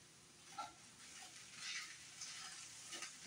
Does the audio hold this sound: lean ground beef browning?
yes